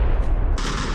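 A grenade blast in the PUBG battle royale game: one sharp, loud explosive burst halfway through, cutting in over a dense, rumbling game soundscape and ringing on to the end.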